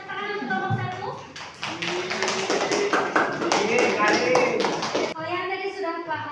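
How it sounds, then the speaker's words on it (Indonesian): A classroom of middle school students claps for group one, a burst of quick, uneven hand claps lasting several seconds, mixed with children's chatter and a teacher's voice before and after. "Beri tepuk tangan untuk kelompok satu."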